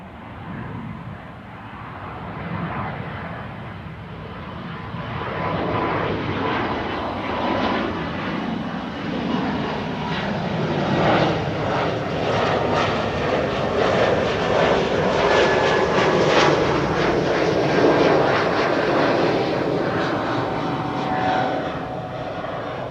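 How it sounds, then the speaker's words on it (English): A KLM Embraer 195-E2 jet climbs away on takeoff at Schiphol, a loud, steady engine roar that swells and holds throughout, broad and rumbling with a rising whine, no voices. "already off the ground, the E2 Embraer 195 to Hamburg, KLM flight 1753"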